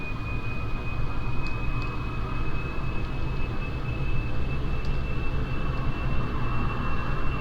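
Engines of a VTOL craft at half throttle in Kerbal Space Program, a loud steady roaring drone with a constant high whine running over it and a few faint clicks.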